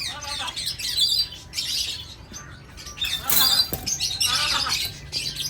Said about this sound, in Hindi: हमारे पास ग्रीन रिंग नेक का एक पेयर है